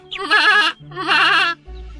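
A goat in a Hindi cartoon story gives two loud, wavering bleats in quick succession, each about half a second long, close and clear with no talk.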